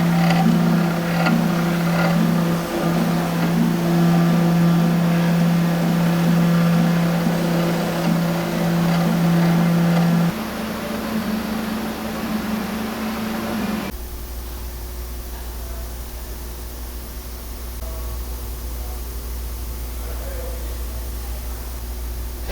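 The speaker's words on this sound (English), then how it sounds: "we're going to our final MACB machine, a 337 which is a continuous tubular press" An MACB 337 continuous tubular press runs with a steady mechanical hum and whir. It shifts to a lower, quieter drone partway through as its tone changes, with no one speaking.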